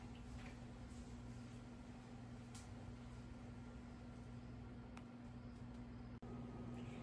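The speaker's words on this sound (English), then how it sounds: "while the squash is cooking in the microwave" A faint, steady low hum of a microwave oven cooking squash runs throughout, with a few small clicks and ticks.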